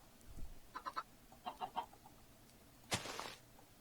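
Minecraft chickens cluck in short groups of two or three, with a sharper squawk near the end. They play alone and fairly close over quiet game ambience.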